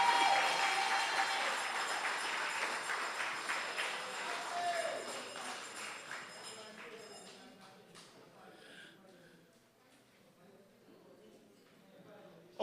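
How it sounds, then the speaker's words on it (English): A crowd at a community consultation claps again, starting as a loud dense wash that gradually thins and fades to scattered claps over several seconds. Talking can be heard underneath. "Clap again."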